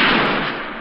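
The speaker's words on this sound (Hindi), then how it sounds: "नथुराम गोडसे ने उन पर गोली चलाकर" A single loud gunshot sound effect for a documentary on Gandhi's assassination by Nathuram Godse, a harsh broadband blast whose noisy tail rings on and slowly fades.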